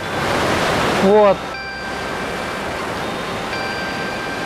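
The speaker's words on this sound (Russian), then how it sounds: "Водопад уже буквально здесь, за поворотом." Continuous broadband rush of a mountain waterfall in Ossetia, steady and fairly close, with a man's brief spoken word and a short whistle-like tone over it.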